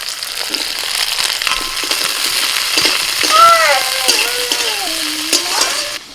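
Capsicum, tomato and green chillies frying in a pan, with loud close sizzling and stirring and a thin wavering whistle-like tone in the middle to later part.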